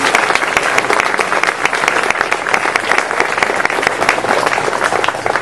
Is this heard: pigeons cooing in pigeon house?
no